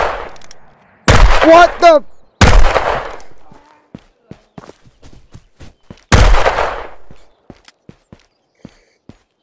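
Gunfire in the video game Ghost of Tabor during a cowboy challenge, a few sharp loud shots spaced apart among voices, followed by a string of lighter clicks and taps.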